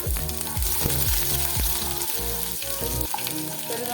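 Green chili, crushed garlic and finely chopped ginger fry in hot oil for a drumstick thoran, a loud continuous sizzle close by with rhythmic stirring strokes against the pan and no talking.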